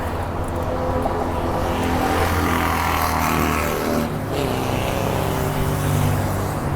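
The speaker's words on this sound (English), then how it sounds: "What you're hearing is the traffic on the bridge, the automobile deck below." Continuous dense road traffic rumbles from the automobile deck below a New York City East River bridge, a broad steady roar of engines and tyres with no talk.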